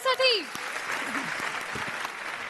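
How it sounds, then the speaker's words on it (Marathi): Studio audience applauding the house band on a Marathi singing competition show, a brief sung or spoken note at the start giving way to a soft, steady patter of clapping that stays fairly quiet throughout. "त्यांच्यासाठी जोरदार एकदा टाळ्या आपल्या टाळ्या"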